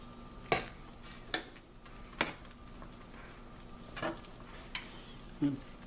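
A spoon stirs a pot of hearty vegetable stew, giving about seven sparse clinks and scrapes against the pot at irregular intervals over a faint low hum.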